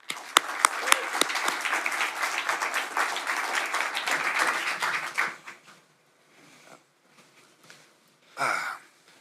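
An audience at a book talk about venture capital for life scientists breaks into loud applause with a few sharp claps, fading after about five seconds, followed by quiet murmurs and a brief burst of noise.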